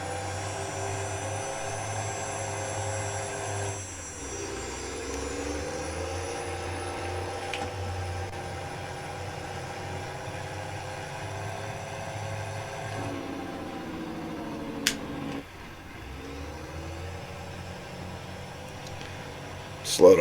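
A truck engine running in a rural holler, a steady low idling rumble that holds for about twenty seconds, with a couple of brief clicks and a slight shift in tone partway through.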